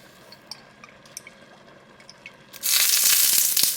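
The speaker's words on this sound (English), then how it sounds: "Now we can go ahead and add our oil in there." Olive oil is poured into a hot pan with scattered ticks and drips at first, then a sudden loud, sustained sizzle.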